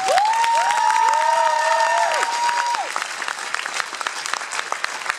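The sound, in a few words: audience applause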